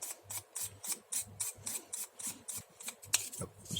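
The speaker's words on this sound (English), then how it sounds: "Check your sandpaper if it's not rough anymore" Sandpaper rubs a plastic model kit part in short, quick back-and-forth strokes, a soft close-up rasping rhythm of about a dozen even scrapes, with no talking.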